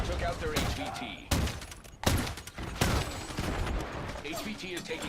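Gunfire in a first-person shooter game cracks out in several loud bursts and single shots over a dense battle din, with voices talking underneath.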